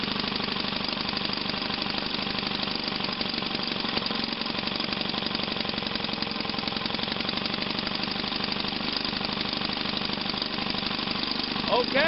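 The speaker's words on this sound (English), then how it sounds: "The engine is running quite well." A 1937 Maytag model 72 engine runs at a slow RPM, giving a steady, dense, continuous chugging that is loud and close and holds even for the whole stretch, with no talk over it.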